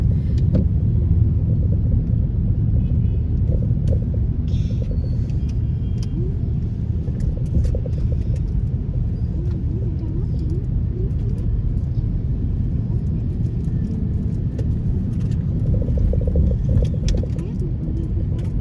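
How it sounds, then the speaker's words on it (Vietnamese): A traffic jam on a road, a steady, loud, continuous rumble of car engines and road noise, dense and unbroken throughout with no talking. "Cả nhà thấy kẹt xe cái ghê không?"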